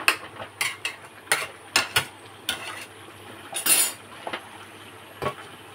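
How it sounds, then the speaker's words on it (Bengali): A metal spoon stirs and scrapes in a cooking pan while a thin fish curry with ridge gourd is made, giving irregular sharp clinks and scrapes up close with quiet gaps between them and no voices. "একটু নাড়িয়ে দিই।"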